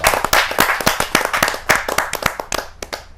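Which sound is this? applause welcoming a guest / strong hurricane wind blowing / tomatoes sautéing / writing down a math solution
applause welcoming a guest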